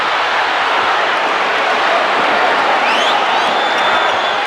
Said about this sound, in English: Crowd groans every time they see Marley has an open 3-point shot.